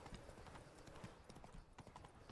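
Horse hooves clip-clop in a steady, quick rhythm in The Witcher 3: Blood and Wine, quiet and continuous over a low ambient bed.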